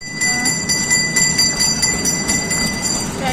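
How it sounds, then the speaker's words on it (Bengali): A toy train runs at a Saraswati Puja outing, a steady rumbling clatter with rhythmic clicks and a high whine close by. "টয় ট্রেন হয়ে গেছে চালু।"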